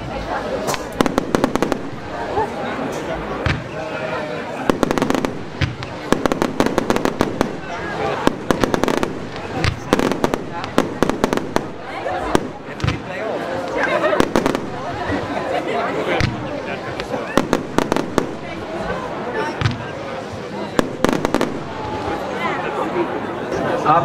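A category 4 fireworks fan cake fires in quick bursts, a 100-shot barrage of sharp cracks and pops in irregular clusters outdoors, with crowd chatter and talk underneath.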